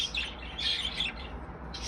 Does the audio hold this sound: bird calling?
yes